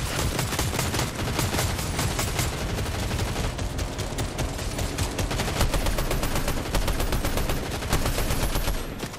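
Sustained rapid gunfire from a Fortnite match, dense bursts of automatic shots rattling continuously and loudly throughout, with no pauses or talk.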